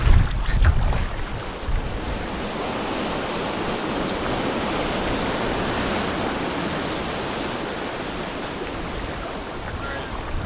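Steady, broad wind and water noise from a headwind while paddling on Lake Superior, a continuous breezy rush with lapping water, starting with a brief closer splash or bump.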